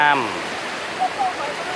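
Water flows through a cleared waterway during a flood season as a steady, close, broadband rush. A voice speaks briefly over the opening moment.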